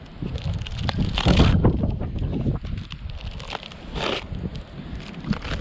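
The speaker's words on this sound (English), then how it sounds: "I'm in the wind, the second day of the hurricane wind blowing" Hurricane-force wind buffets a microphone outdoors, a continuous rough low roar with gusty swells and crackling bursts, loud and close, with no talking.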